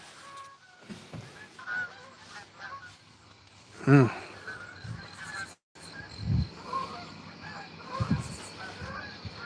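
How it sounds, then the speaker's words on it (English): A flock of geese flying overhead honks in scattered calls, one loud close honk standing out among fainter ones, with outdoor background noise at an archery range. "We got a flock of geese flying over."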